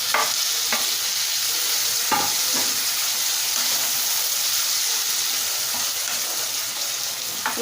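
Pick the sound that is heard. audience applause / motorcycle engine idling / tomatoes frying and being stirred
tomatoes frying and being stirred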